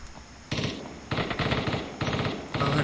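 Bursts of automatic gunfire in the video game Ring of Elysium, several rapid strings of shots in quick succession, fairly close and loud, separated by short pauses.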